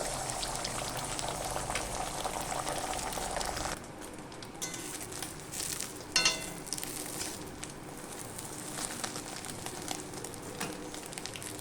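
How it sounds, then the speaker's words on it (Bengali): Beaten egg fries in hot mustard oil in a pan, a quiet sizzle and bubbling that is loudest at first and then softens into a fainter crackle with a couple of small clinks. "তেল গরম হয়ে গেছে, দিয়ে দেব ডিম ভাঙা।"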